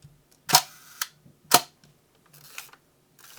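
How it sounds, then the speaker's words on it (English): A Hasselblad 50mm lens shutter, just fitted with new blades, fires several times at slow speeds, each sharp click opening and a second snapping shut a fraction later, close and crisp in a quiet room. "just testing here how the shutter speeds sound"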